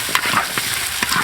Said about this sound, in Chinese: 下排骨，翻炒均匀，裹上糖色，炒一下